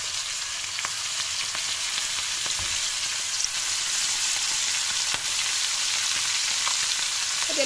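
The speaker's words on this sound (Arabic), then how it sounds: "ومباشرة غادي نلفو في الزيت" Squid rings (calamari) frying in hot oil in a covered frying pan, a steady close hiss and crackle with faint pops running throughout, no voices.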